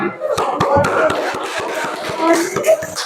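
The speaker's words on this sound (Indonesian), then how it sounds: "Tepuk tangan dulu semua." A classroom of students applauds together for the first to finish a task, dense rapid clapping mixed with children's voices and chatter throughout.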